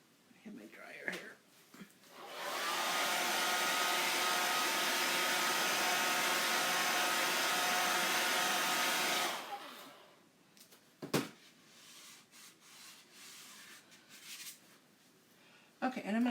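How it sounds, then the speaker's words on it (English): A handheld hair dryer, used for chalk-pastel ombre hair colouring, blows steadily for about seven seconds, loud and close, before switching off; soft handling noises and a brief knock follow. "I have my dryer here."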